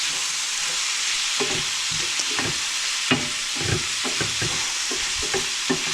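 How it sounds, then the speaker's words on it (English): Roughly chopped tomatoes hit a hot pan for shakshuka, giving a continuous close sizzling hiss broken by soft irregular stirring clicks and spatters, with no talk. "then I'm going to add the tomatoes, which are roughly chopped"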